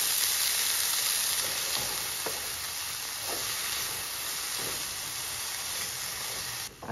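Chopped garlic and fenugreek leaves sizzle steadily in hot tempering oil on a gas stove, a loud continuous frying hiss with faint stirring scrapes and no talk.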